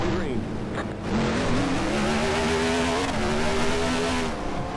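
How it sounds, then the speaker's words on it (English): A dirt late model race car engine in NASCAR Racing 2003 drones loudly and continuously, its pitch rising and holding as it revs, with a voice speaking over it. "Yeah, the engine sounds are pretty decent."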